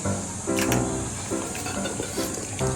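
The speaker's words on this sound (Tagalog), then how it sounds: "mag-spray" An aerosol spray is released in short hissing bursts during a prank, set against steady background noise, with brief voice-like sounds around the hisses.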